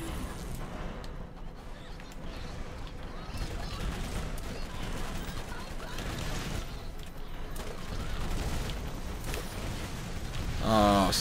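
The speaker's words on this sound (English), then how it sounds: "so that's where the missiles are coming from" Missiles and gunfire in the game Borderlands come as dense, continuous bursts of shots and blasts throughout, with a louder burst near the end.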